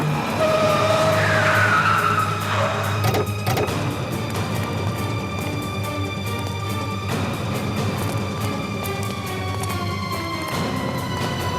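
A car with a punctured tyre skids, with a loud tyre squeal sliding over a steady engine roar in the first few seconds, then a continuous rumble that carries on under a high tonal whine.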